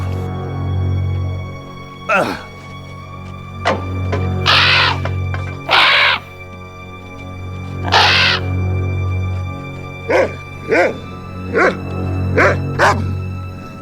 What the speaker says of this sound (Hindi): वो एक कौवा है